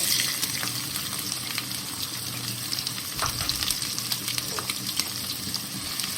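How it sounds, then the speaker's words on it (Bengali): Chopped onion fries in hot oil with a steady, dense sizzle and crackle that fills the whole stretch, with a faint stirring texture underneath and no voices. "এরপর পেঁয়াজ কুচি দেব"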